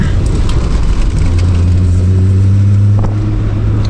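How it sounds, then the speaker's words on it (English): An MK3 Jetta drives through a turn at about 30 mph, heard from inside as a constant loud road and engine drone with a steady engine tone that rises slightly midway. "Going to be going 30 miles an hour like before, and right into the turn."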